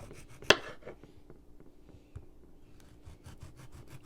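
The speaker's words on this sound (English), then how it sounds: "So I like to slice mine thin as I can get it. And I love using a serrated knife for this." A serrated knife slicing a tomato thin on a board, quick rasping saw strokes in short rhythmic runs, with one sharp knock near the start, close and fairly quiet.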